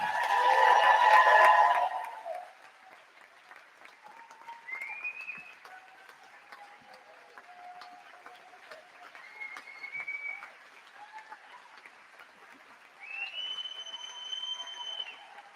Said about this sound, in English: Please give the class of 2022 another round of applause.